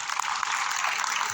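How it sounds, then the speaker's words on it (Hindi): Students in a programming class applaud a classmate, a brief, fairly faint patter of clapping that mixes with some voices. "हमारे पास रसीद के लिए भाई तालियां हो जाए"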